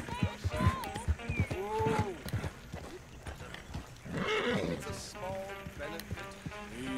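A horse in the video game Red Dead Redemption 2 whinnies and snorts amid clip-clopping hooves, with someone talking over parts of it.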